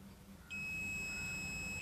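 A multimeter on continuity mode beeps while a transformer winding is tested: after a brief quiet start, one steady, high, thin electronic tone switches on and holds unbroken to the end.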